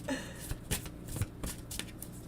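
Tarot cards being shuffled during a live reading, close and fairly quiet, with soft riffling bursts and card slaps repeating at an irregular rhythm and no talking.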